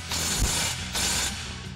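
An impact wrench fitted with a 13 mm socket and extension tightens exhaust bolts on a Chevrolet Silverado 1500: two short bursts of mechanical rattling, close and moderately loud, separated by a brief pause, with no talking.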